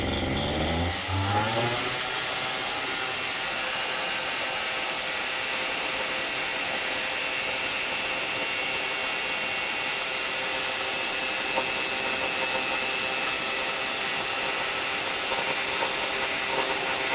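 A hot Mosca 268 two-stroke ultralight engine fitted with a three-blade propeller starts and then runs loud and steady at high revs, its buzzing roar continuous and unbroken throughout.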